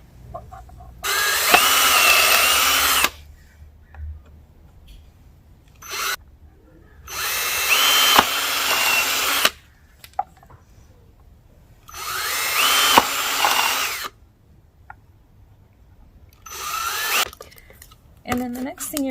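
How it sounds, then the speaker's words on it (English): A power drill whirs in four separate bursts of a couple of seconds each, drilling holes in the ends of pieces for a 10-foot Christmas star, revving up and stopping, with quiet pauses and small handling noises in between. "Drill a hole in each one of them at the end."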